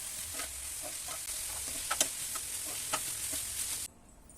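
Gobi manchurian frying in sauce in a pan, a steady loud sizzle broken by scattered clicks and scrapes of stirring, cutting off abruptly near the end.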